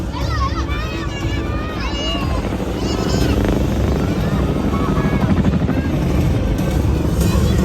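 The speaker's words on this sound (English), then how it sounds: "leading this formation is the advanced multi-mission helicopter, the CH-47 Foxtrot Chinook, a new variant from 127 Squadron" A CH-47F Chinook helicopter leads a flypast formation over a national day parade, its rotor roar steady and heavy throughout while a loudspeaker commentator talks over it.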